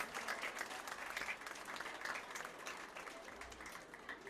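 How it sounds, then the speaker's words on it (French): Audience at a school excellence ceremony applauding the teaching staff, a steady, dense burst of many hands clapping for the whole stretch, moderately loud and continuous. "Applaudissez l'équipe pédagogique, les professeurs,"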